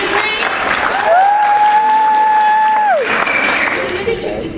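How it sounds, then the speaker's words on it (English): Students cheering for Cedarbrae at a Toronto secondary school: a crowd of clapping and shouting, with a sustained whistle or whooping tone rising above the applause, loud and steady. "So can we hear us cheer for Cedarbrae?"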